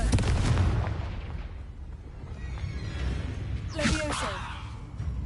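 In Hogwarts Legacy, a Confringo fire blast spell goes off as a sharp burst near the start and a rushing whooshing blast later on, amid rumbling game effects and a human voice.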